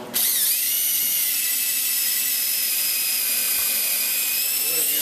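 A power driver running screws into new bottom frames on a 1946 Chris Craft Brightside U22 boat, one loud sustained high whine starting abruptly and holding close for several seconds.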